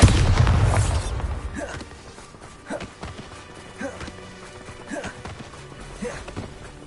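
A Bombarda explosion spell cast in Hogwarts Legacy bursts loudly at the start, then fades into quieter impacts and scattered footstep-like taps in the game scene.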